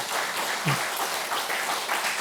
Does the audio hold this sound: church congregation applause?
yes